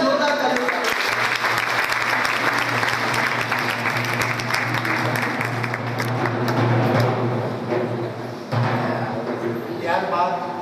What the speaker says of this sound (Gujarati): બધા જોરદાર તાળીઓ.